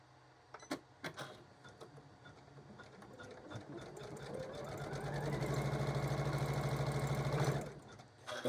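A sewing machine stitches appliqué with silver thread, starting with a few clicks and short bursts, then building into a fast, steady mechanical whir that runs for a few seconds before stopping abruptly.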